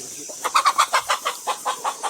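Chickens cluck in a quick rhythmic series of a dozen or so clucks, close by and fairly loud.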